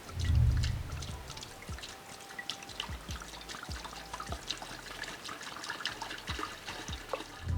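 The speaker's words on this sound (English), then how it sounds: "I'm gonna pour water and you might hear me scream" Water pours and trickles into an acrylic mobile aquarium, a soft, continuous splashing with dribbles and small drips, quiet and close, after a brief louder gush at the start.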